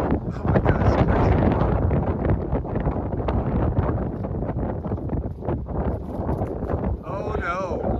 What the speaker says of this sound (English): We have just a slight right-to-left wind.